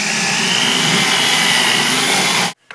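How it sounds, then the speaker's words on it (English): A power drill bores holes into a wooden stair newel post, a loud, steady high-pitched whine running continuously for about two and a half seconds before stopping abruptly. "I need to drill a couple holes in it so we can put the newel post fastener in."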